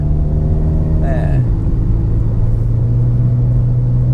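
A lightly modified 2010 Toyota Vios 1.5E exhaust drones with a loud, steady low rumble and a deep humming tone that dips slightly in pitch partway through.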